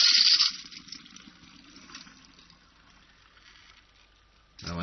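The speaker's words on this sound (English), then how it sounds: "I like to rinse with boiling water to get the soap off." Boiling water is poured over brass reloading cases to rinse soap away, gushing loudly at first, then trailing off into a softer trickle before a brief splash at the end, with no talking over it.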